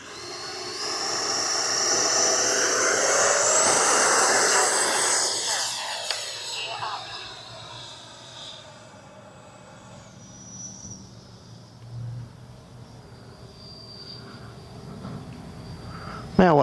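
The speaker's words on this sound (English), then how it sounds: "Man, what a sweet flying plane." A Freewing Avanti S V2 80mm RC jet plane roars past loudly, its hissing engine whine peaking early and then fading into the distance, leaving a quieter background.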